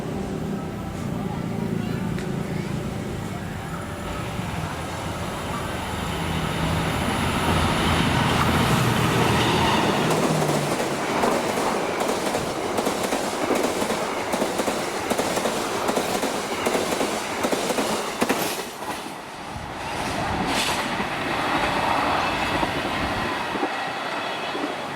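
A passenger train with executive-class carriages passes along a railway line in Indonesia, a sustained broad rumble with rail clatter that swells and holds loudly throughout, with some talk mixed in.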